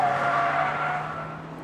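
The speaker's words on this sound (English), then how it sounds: "You can hear those V8 engines on the American-built SUVs with turbocharger." Turbocharged V8 engines of American-built SUVs on the Arlanda test track give a steady, continuous roar that holds at a constant level and tapers off slightly toward the end, with no voices.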